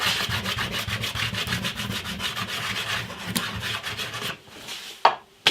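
Candle wax rubbed onto wood at a workbench gives quick rhythmic back-and-forth scraping strokes, close and fairly soft, which break off near the end, followed by a short knock.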